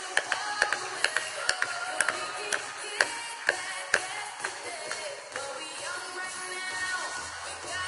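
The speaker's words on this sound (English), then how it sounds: "big round of applause for Jorge" A live demo audience claps for a volunteer named Jorge: a string of sharp, scattered handclaps that thin out over several seconds, fairly close, with no talking.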